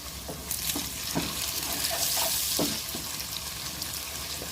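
Crab curry with curry leaves frying in a pan, a steady close sizzle with scattered pops and crackles, broadband hiss rising slightly midway and holding throughout with no talking.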